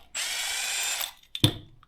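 A power tool whirs in a high-pitched burst for about a second during engine building, then stops, followed by a sharp mechanical clack close by.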